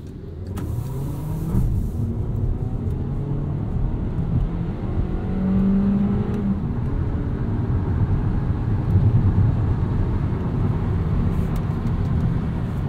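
A 2016 Volkswagen Jetta SE with a 1.4L turbo engine accelerates in sport mode, its steady engine drone rising in pitch through the gears and heard from inside the cabin, continuous and fairly loud with no talking.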